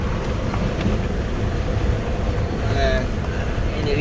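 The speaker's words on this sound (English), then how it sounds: "it's really windy here" Strong wind, nearly 30 knots, on a sailboat at sea off Martinique in the Caribbean, a steady loud rushing roar with buffeting against the microphone throughout and faint creaks from the boat.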